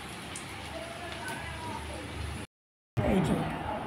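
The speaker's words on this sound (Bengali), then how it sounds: "এইভাবেই সব লুচিগুলো আমি ভেজে নেব।" Luchi, puffed Bengali puris, frying in hot oil, a steady broadband sizzle and crackle that runs for a couple of seconds, cuts out briefly, then returns louder and closer.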